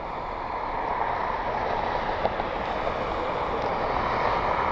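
A Southwest Airlines Boeing 737-700 taxis at Cleveland airport in the evening, giving a steady, even jet engine roar with broad rushing noise and no clear rise or fall.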